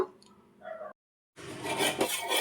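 A spoon stirs payesh, a sweet rice pudding with sugar just added, in a pot. Close scraping and clinking of metal against the pot comes in two bursts separated by a brief silence, the second louder and denser.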